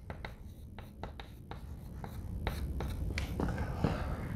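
Chalk or marker strokes on a board, short close scratches and taps in an irregular rhythm, quiet and dry with faint room noise.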